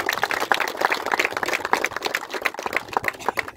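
A village crowd at a rural cricket tournament's final-match prize ceremony claps steadily, a brisk, moderately loud patter of many hands continuing throughout.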